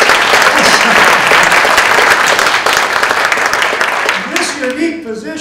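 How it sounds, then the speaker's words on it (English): A university lecture audience breaks into loud applause at the inauguration of an academic chair, clapping dense and strong at first, then thinning out as a voice begins to speak at the end. "yeah, we can clap"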